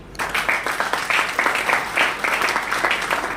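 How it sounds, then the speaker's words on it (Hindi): Audience clapping for themselves at a gathering, a moderate crowd applauding in an uneven, steady patter with faint voices mixed in underneath. "तो ताली बजाओ अपने लिए।"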